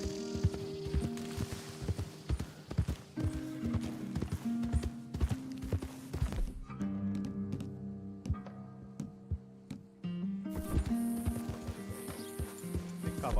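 Horse hooves clip-clop steadily in Red Dead Redemption 2, a dense rhythmic run of hoofbeats over tonal game music, with a short quieter stretch midway before the trotting picks back up.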